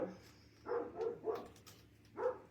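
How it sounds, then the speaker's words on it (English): A neighbor's dog barks at a distance, a run of four or five muffled barks in quick succession followed by a short pause and one more bark. "I can hear the neighbor's dog."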